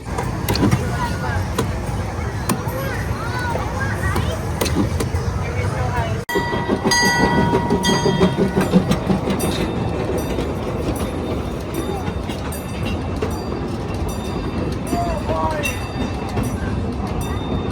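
An amusement park train at Cedar Point rumbling and clattering along the track, loud and continuous with rhythmic clicks and some voices in the background.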